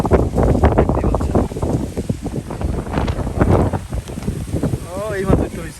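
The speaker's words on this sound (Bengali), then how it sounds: "বৃষ্টি হচ্ছে কিন্তু পরিমাণটা বৃদ্ধি হচ্ছে" Strong wind buffets the microphone outdoors with rain beginning to fall, a continuous loud roar under almost constant nearby talking.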